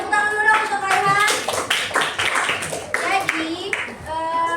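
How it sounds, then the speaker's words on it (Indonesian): Classroom students clap for a classmate named Rehan, a burst of uneven handclaps mixed with voices talking at the same time. "Boleh tepuk tangan dulu dong untuk Rehan."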